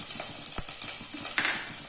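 Finely chopped ginger, a tablespoonful, hits hot oil for chilli chicken and gives a steady bright sizzle. A spoon scrapes and stirs through it with soft repeated knocks. No one speaks.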